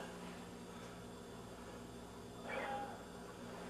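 A single soft cat meow, faint against a steady background hiss, with no other sounds around it.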